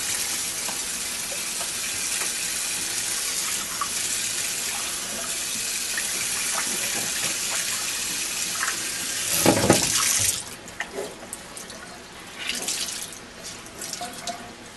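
A kitchen tap runs steadily to rinse a sink, a close continuous stream that swells into a louder splash before easing to quieter trickles and clatter.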